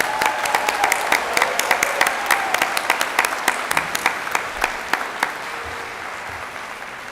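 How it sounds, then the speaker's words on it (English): An audience at a university fall commencement ceremony applauds the graduates, a dense sustained wash of clapping from a large crowd that thins out toward the end. "Please join me in applauding the graduates from the College of Health, Education, and Human Sciences."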